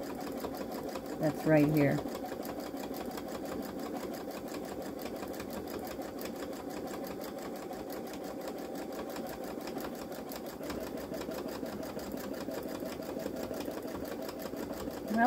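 A Babylock Solaris Vision embroidery machine stitches a satin stitch in a steady, fast, continuous whir that runs close and unbroken for the whole stretch, with a short voice heard near the start.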